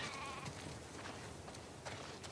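Sheep in The Last of Us Part II bleating in short, wavering calls over a low, noisy background, several overlapping bleats at moderate distance across a couple of seconds.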